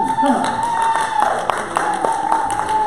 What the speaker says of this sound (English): And then a round of applause for the team.